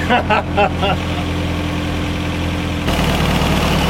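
A Toyota 22R engine in a 4x4 pickup truck runs at a steady idle with an even mechanical hum close by, and a person's voice briefly speaks over it at the start.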